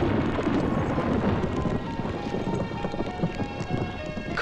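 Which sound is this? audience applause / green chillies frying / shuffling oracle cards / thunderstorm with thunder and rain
thunderstorm with thunder and rain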